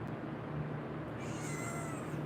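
A house cat meows indoors against steady fan noise, a drawn-out call rising near the end of a short stretch with no talking.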